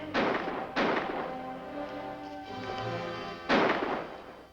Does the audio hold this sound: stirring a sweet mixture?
no